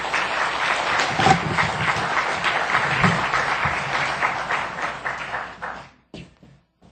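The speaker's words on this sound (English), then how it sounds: "Please let's give another round of applause for our panelists." Audience applause at a panel on HIV prevention programs, a steady dense clapping from a sizable crowd that keeps up for about six seconds and then quickly dies away into near silence.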